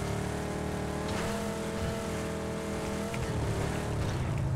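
A car engine in the video game PUBG gives a steady, loud, droning hum with slight pitch wavers, close and continuous throughout.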